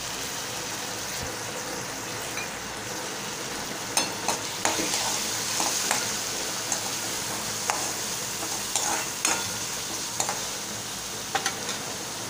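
Softened onion and moong dal frying in a pan for a Malvani-style dill greens dish, a low, even sizzle dotted with light clicks and taps from stirring, no one speaking.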